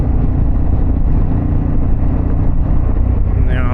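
Harley-Davidson Pan America motorcycle engine with an Akrapovic exhaust, a loud steady rumbling drone held close and constant throughout.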